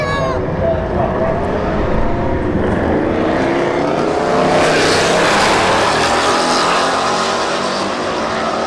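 Mustang and Camaro drag racing at a racetrack street heat event, with loud, sustained engine roar rising through the gears and a steady high mechanical whine, blended with crowd and announcer-style talk.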